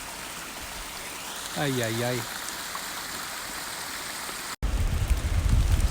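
A small waterfall stream running down an Appalachian hiking trail, a steady rushing wash of water that grows louder and rougher near the end, with a brief vocal exclamation partway through.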